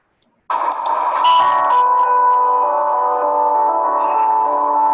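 A sustained piano chord rings out loudly, tones held and overlapping with a brief brighter flourish near the start.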